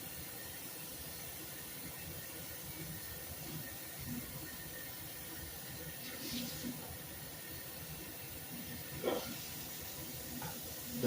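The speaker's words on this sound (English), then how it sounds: "I'm just gonna rinse my broccoli real quick." A kitchen tap runs steadily while broccoli is rinsed under it, a soft continuous hiss of water with faint splashes and clinks, no talking.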